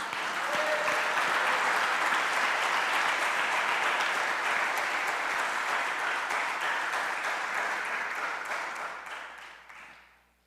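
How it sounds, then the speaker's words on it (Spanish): Church congregation applauding during a sermon, a dense full round of clapping from many people that holds steady for several seconds, then fades out toward the end. "¿Usted cree que Dios merece un aplauso, hermanos?"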